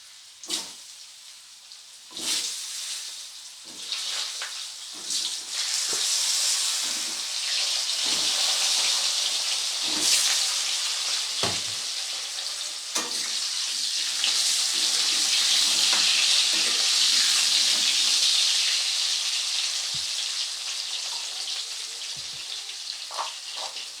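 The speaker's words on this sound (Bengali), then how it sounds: "সমস্ত মাছ ভেজে নেওয়ার পরে এবারে আমি আলুগুলোকে ভেজে নেব" Potatoes frying in a pan after fish, a bright steady sizzle rising and swelling, punctuated by sharp spatula knocks and stirring scrapes.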